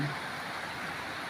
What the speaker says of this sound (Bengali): বৃষ্টি